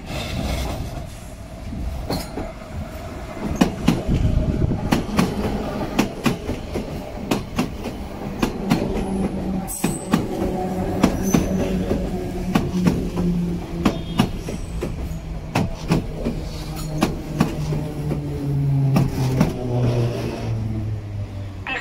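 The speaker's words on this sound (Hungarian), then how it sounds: "Vonat érkezik a harmadik vágányra, a hármas peron mellé." A train pulling in at a station platform, a loud close rumble with rhythmic wheel clatter and whining tones that slide downward as it slows, continuing steadily throughout.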